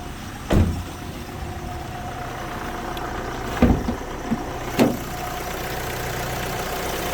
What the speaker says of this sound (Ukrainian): На даний час двигун заведений, чисто м'яко працює, ніде не грюкає, не стукає.